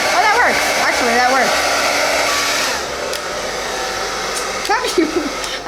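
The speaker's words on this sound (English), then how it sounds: "I don't know how to use the blow dryer." A blow dryer runs steadily and loudly throughout, a constant airy whir during a special-effects makeup session, with a voice talking over it partway.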